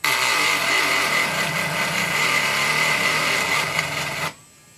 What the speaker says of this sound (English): Let's try and use maybe that drum sander.